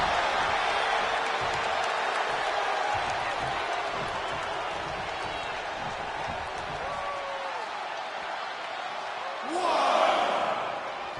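Arena crowd noise from a wrestling match in the WWE 2K25 video game, a steady roar of fans that swells and cheers louder near the end, with a commentator talking over it.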